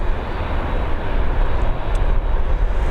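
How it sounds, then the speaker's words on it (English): A Ryanair Boeing 737 landing at Dublin Airport on runway 28L roars loudly and close, a dense, continuous jet-engine rumble with no speech. "FR1453 coming in from Brussels, it's a Boeing 737."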